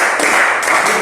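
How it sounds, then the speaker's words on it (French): An audience at a sales and motivation seminar applauds steadily for about a second, a dense, even patter of many hands clapping at once with no voices standing out. "Applaudissez pour vous."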